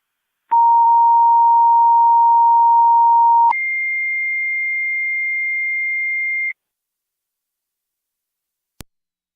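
Fire dispatch alert tones come over a Niagara County scanner radio: a steady lower tone holds for about three seconds, then a higher tone holds for three more. The tones are loud and clean, followed by a brief click.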